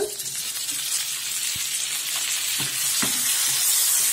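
Onions and ripe tomatoes sautéing in a pan for spicy kara chutney, a soft continuous sizzle with a few sharp clinks and scrapes of a spoon stirring, close and steady.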